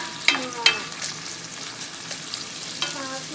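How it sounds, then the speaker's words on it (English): Onion sautéing in a pan, a soft steady sizzle broken by several sharp utensil scrapes and clinks against the pan, close and fairly quiet. "we're sauteing the onion"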